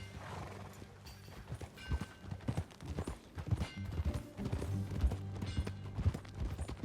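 Horse hooves clip-clop at a steady ride pace in Red Dead Redemption 2, with occasional whinnies and snorts over a low musical or ambient bed and no talk.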